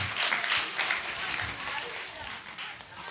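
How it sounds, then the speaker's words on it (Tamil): Church congregation applauding at a Christmas service in Sethiyathope, a steady, fairly full wash of clapping that holds for about three seconds without a break. "அதனால ஒரு பெரிய கைத்தட்டல் கொடுத்துடலாமா?"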